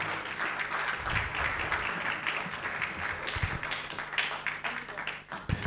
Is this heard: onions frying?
no